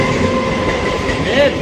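A train rolls past a railway level crossing with a loud, steady rumble and rhythmic wheel clatter, and a brief high wheel squeal near the end. Faint voices can be heard beneath the noise.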